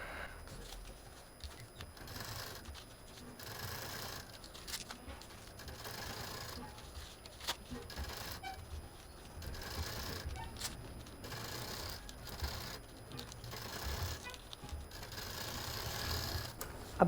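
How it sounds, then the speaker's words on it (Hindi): A sewing machine runs in short repeated bursts, stitching paper laid over cloth while a face mask is made, its close mechanical whirring starting and stopping with brief pauses between runs. "तो यहाँ पर हम पेपर लगा करके मशीन चलाएंगे।"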